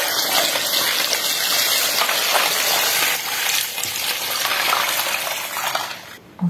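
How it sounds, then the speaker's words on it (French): Water gushes steadily from a tap into a pot, a loud continuous splashing that changes pitch as it fills, then briefly cuts off near the end. "Puis je couvre le tout avec de l'eau du robinet."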